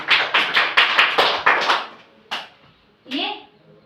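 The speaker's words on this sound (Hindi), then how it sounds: "Very good. ताली बजाओ।" Children in a classroom clap in a rapid, rhythmic run of about ten close, sharp handclaps that trails off, followed by a few isolated claps and a brief voice.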